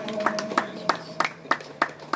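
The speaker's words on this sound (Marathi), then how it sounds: "टाळ्या वाजवून तुम्ही इकडे त्यांचं अभिनंदन करावं." Audience clapping at a temple anniversary function in Harmal, Keparwada, honoring the temple chairman; a sparse, loose rhythm of claps spaced about a third of a second apart, moderately close, with faint voices in the background.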